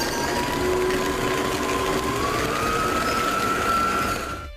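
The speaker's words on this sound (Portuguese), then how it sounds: "Nós estamos utilizando a raquete da batedeira, tá?" Electric stand mixer beating a creamy batter with its paddle attachment, a steady close motor whine with a slowly rising pitch, alone and unbroken before it cuts off.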